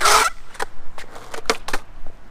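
Skateboard fitted with Avenue suspension trucks and 99A wheels rolling over rough ground, a run of sharp clacks and grinding rattles at an uneven rhythm, close and fairly loud, with no talking.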